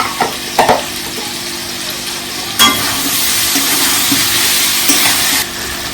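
Ground cumin paste sizzles and fries in hot oil for a fish curry, a steady close crackling hiss with a few stirring clatters, loudest after the midpoint and then easing off near the end.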